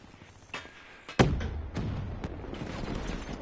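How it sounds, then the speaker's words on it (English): Gunfire and explosions in the video game Black Ops 3, a few scattered thuds and cracks followed by a rumbling blast and a low, sustained roar of distant combat. "I hear people really close to me and a lot of explosions"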